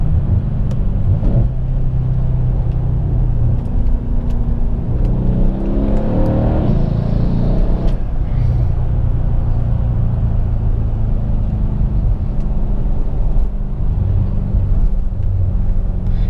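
Turbocharged engine of a Mercedes-Benz W212 E63 AMG under way, a deep continuous rumble with a rising, revving surge midway, steady road roar around it, close and loud with no talking.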